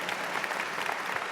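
Audience applause at a women's leadership executive panel in Vancouver: a short, even wash of many hands clapping, steady and somewhat distant, with no speech over it.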